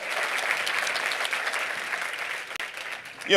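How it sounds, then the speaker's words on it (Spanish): Audience applause fills a large hall at a motivational speaking event, a dense steady wash of clapping from a sizable crowd that tapers slightly near the end. "Let's give him another round of applause for putting this."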